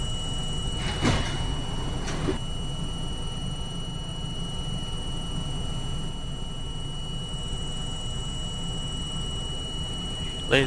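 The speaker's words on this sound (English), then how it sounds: "Stay clear for closing doors." Subway train sliding doors on an R42 J train in the OpenBVE train simulator game, with two quick door thumps early on over a steady electrical hum, then a faint knock at the end.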